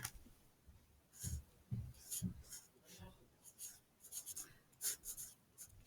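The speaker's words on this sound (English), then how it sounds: "on the front, we're going to write reading" A pen writes on the front of a paper folder, giving soft, close scratchy strokes in short bursts separated by quiet pauses.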